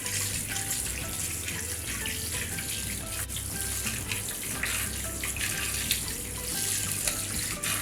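Carrots rinsed by hand under a running kitchen tap, a steady close splash of water hissing continuously with small shifts as the hands move the carrots through the stream.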